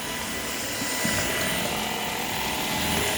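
A Shark Power Detect vacuum cleaner runs steadily over an area rug on a landing. The motor roar and airflow rumble stay loud and constant, close by with no talk.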